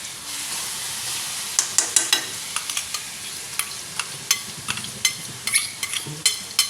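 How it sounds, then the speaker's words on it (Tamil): Garlic sautés in a hot pan with a close, steady sizzle as a spatula repeatedly scrapes and taps through it in a quick, uneven rhythm. "பூண்டு போட்டுருங்களா? இப்போ வந்து நல்லா வதங்கணும்."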